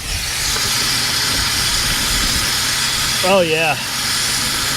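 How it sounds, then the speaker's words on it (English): Steam hisses steadily from the busted radiator of an overheated 1997 BMW 528i, a loud close broadband rush, with a person briefly speaking over it. "this steaming and smoking will subside eventually once the engine starts cooling down."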